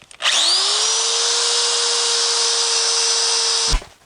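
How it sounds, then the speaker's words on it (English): Sandpaper of 120 grit held against a spinning wooden bowl on a lathe, giving a steady loud whirring hiss with a constant hum that starts abruptly, holds for over three seconds, then cuts off. "I'm going to finish it up with sandpaper"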